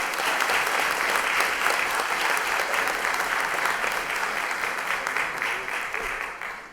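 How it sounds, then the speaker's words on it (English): An audience at a school committee meeting gives a steady, loud round of applause, the clapping dense and continuous throughout and tapering slightly at the close. "Let's give him a nice round of applause"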